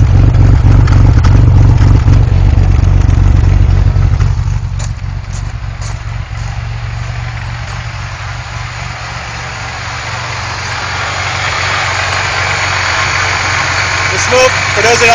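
A Ford Thunderbird SC supercharged engine runs during break-in, a loud steady low rumble at close range that eases slightly after the first few seconds, then holds an even idle-like drone to the end.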